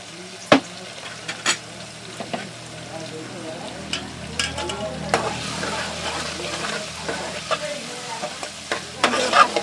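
Tomato pieces with turmeric fry in a pan, a low steady sizzle punctuated by sharp clacks and scrapes of a utensil stirring at irregular intervals.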